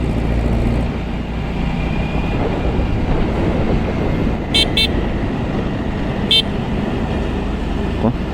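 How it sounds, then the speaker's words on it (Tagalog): A big bike motorcycle horn gives two quick toots and then a third a moment later, ringing out over steady, loud road and engine noise. "cute talaga yung busina natin"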